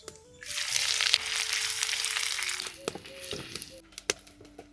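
Whole garam masala, cumin, bay leaf and onion hit hot mustard oil in a clay pan for chicken legs, a loud steady sizzle that fades to a lower crackle with a few clatters, with some faint voice tones underneath.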